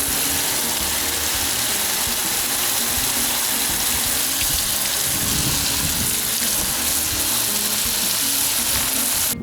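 Water spraying steadily over a car body as it is rinsed before painting, a loud continuous hiss with no pauses.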